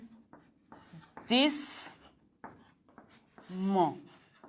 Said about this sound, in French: Je l'écris au tableau.